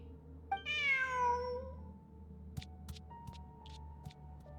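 A single drawn-out cat meow in the video game Genshin Impact, clear and close, followed by a few faint clicks over a low steady hum.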